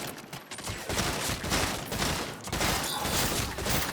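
A new gun firing in the Saints Row video game, a dense, continuous rattle of rapid shots in a loud sustained burst, with no talk over it.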